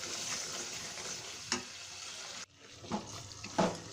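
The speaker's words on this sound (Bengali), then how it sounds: "খুব ভালোভাবে মশলাটাকে কষিয়ে নিতে হবে।" Spice masala for a Bangladeshi chicken roast fries in a pan, with a steady close sizzle broken by a few louder scrapes and stirs of a spoon, and no talking.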